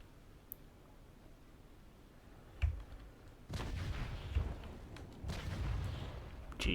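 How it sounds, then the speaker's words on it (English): Heavy stern chaser cannons fire from a warship in the Naval Action naval combat game, a sharp booming shot followed by a burst of rolling, overlapping cannon blasts that continue loudly to the end. "I'd rather get the shots off with our heavy stern chasers"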